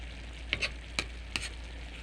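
Pancit noodles with squid balls and bean sprouts stir-fry in a pan, giving a soft, steady sizzle broken by three light scraping clinks of a utensil, close and moderately quiet.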